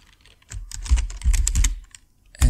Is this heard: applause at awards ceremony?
no